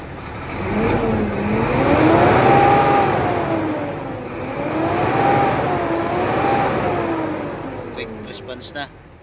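An Isuzu 6UZ1 truck engine, just repaired after a check-engine and low-power fault, revving up in two long swelling waves that rise and fall, loud and close, with a few clicks at the end.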